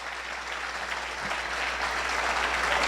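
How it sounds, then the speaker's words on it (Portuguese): Applause from a church congregation for the Lord, a broad, even roar of many hands that swells slightly as it goes on, with no voices on top. "Você dá uma salva de palmas ao Senhor?"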